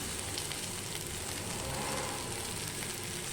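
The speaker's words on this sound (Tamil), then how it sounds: "இதையும் நல்லா வறுத்து விட்டுறலாம்" Grated coconut frying in a pan for pirandai chutney, giving a soft, steady sizzle that holds evenly for a few seconds, faint and close, with no talk.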